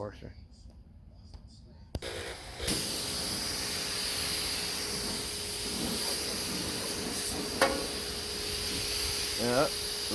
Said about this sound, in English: fire up the washer.